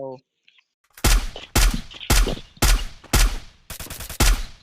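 Gunfire in the Free Fire mobile video game, a sequence of about six loud, punchy shots at a steady rhythm, the last a quick rattling burst, with no talking over them.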